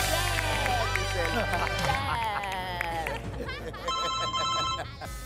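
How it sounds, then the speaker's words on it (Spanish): A telephone rings on the set of the Argentine game show Trato Hecho, repeating over lively crowd noise and excited voices. "¡Teléfono!"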